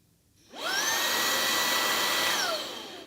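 A Brigii MX30 handheld vacuum switches on with a rising whine. Its motor then runs as a steady high-pitched whir for about two seconds before spinning down, with nobody speaking.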